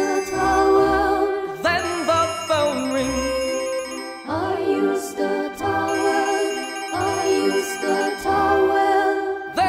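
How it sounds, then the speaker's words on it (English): A telephone rings in an animated children's cartoon, a bright electronic ringtone with repeated tonal bursts over bouncy music, loud and continuous throughout. "then the phone rings."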